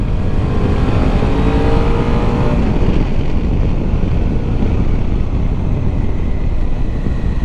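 A Suzuki V-Strom 650 motorcycle pulls strongly through third and fourth gear, its engine note rising briefly before being swamped by steady, loud wind rush over the microphone as the bike rides on.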